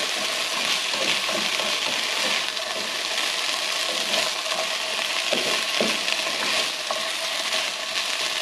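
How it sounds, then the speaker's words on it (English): Onions with soy sauce fry in a pan, making a loud, steady sizzle with intermittent clinks and scrapes from stirring, all close and without talk. "The soy sauce is giving us a nice color. You can see the onions now browning up on the edges."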